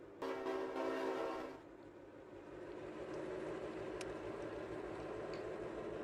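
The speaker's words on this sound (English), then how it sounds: "let's just get the train moving" A train in a video game starts to move: a loud, steady horn-like blast for about a second and a half, then a continuous low rolling rumble that holds to the end.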